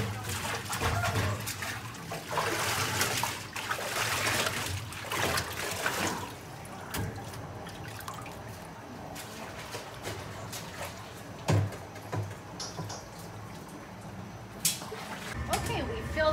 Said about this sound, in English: now we're gonna rinse our alpaca and our mohair and our llama